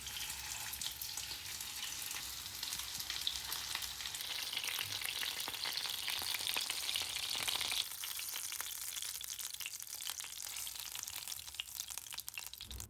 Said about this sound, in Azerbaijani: Eyni qaydada qalan qanadları da qızardırıq.